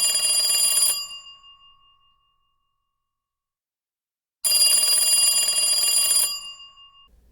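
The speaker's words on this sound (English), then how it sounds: "George picks up his phone and calls Hedy." A telephone rings in two long electronic trilling bursts separated by a few seconds of silence, clear and fairly close.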